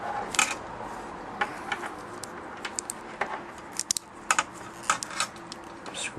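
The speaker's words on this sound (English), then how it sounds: "put the end caps on, screw that down." Small metal end caps being screwed onto a solder-free guitar pedal patch cable, close, quiet clicks and scratchy ticks in irregular bursts over a faint background hum, with no talking.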